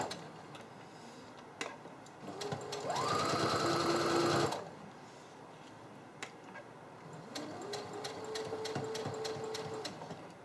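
A sewing machine stitches fabric for a homemade travel pillow in two runs: a short, loud burst, then a longer, steadier stretch, with faint ticking clicks between them and no talking.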